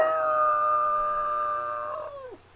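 A human voice imitates a dog howling in one long, sustained, wavering howl. It holds steady, then bends downward and trails off at the end, with no other talk.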